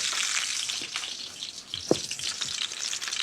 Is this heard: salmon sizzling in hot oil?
yes